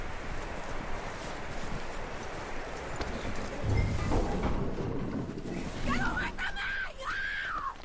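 Horse hooves clip-clop steadily in Red Dead Redemption 2, a moderate rhythmic patter under a bed of ambient noise, with people talking over it and a whinny-like cry near the end.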